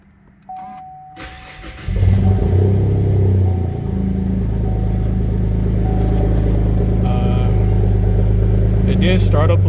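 A car engine cranks and catches after a ruthenium spark plug upgrade, then settles into a loud, steady, rough-sounding idle close by.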